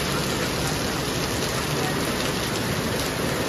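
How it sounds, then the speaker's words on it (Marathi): Heavy rain pours down in a dense, constant roar during a downpour in Manwath, loud and unbroken with no pauses. "धबधब धबधब पाऊस पडायला सुरुवात झालेली आहे"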